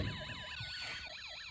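A steady electronic wailing siren from a Snap Circuits Extreme SC-750 kit, rising and falling in rapid sweeps, thin and tinny, with faint music humming beneath it.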